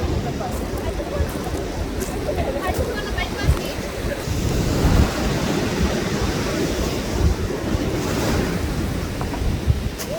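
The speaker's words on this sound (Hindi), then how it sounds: "समंदर का शोर था" Sea waves wash steadily onto a beach under dark clouds, a continuous loud roar of surf with gusty wind buffeting the microphone throughout.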